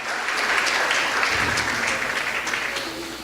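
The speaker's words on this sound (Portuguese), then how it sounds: "Dê um aplauso ao Senhor, irmão." A church congregation applauds during a Portuguese-language sermon, steady dense clapping from many hands that fills the space and tapers slightly toward the end.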